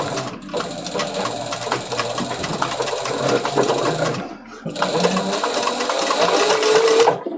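A sewing machine stitches a leather briefcase flap, restarting in a prior stitch line: a loud, close, steady mechanical chatter in two long runs separated by a short pause, with no talking.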